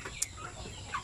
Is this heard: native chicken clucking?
yes